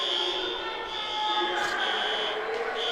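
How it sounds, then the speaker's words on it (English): A school fire alarm going off during a volleyball triangular, a steady electronic tone with strong bands holding across the whole stretch and brief bright bursts layered on top. "set off the fire alarms."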